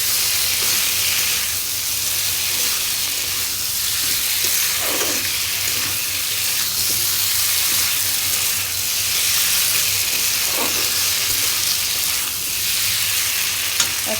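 Cumin, ginger paste, red chili powder, turmeric and salt fry in a hot pan, giving a steady, close sizzle and hiss with faint stirring scrapes throughout, no voices.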